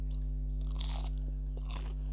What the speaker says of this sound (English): if you can hear chewing, that's me